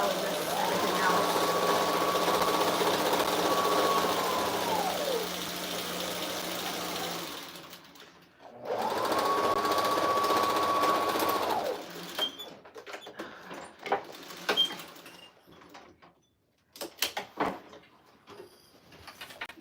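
A sewing machine runs in two long, steady whirring bursts with a short pause between, close and loud, followed by quieter clicks and handling noises.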